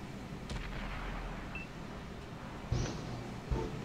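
A tank firing in a video game tank battle, heard as a couple of dull low booms over a constant background rumble, moderately loud against the ambient game noise.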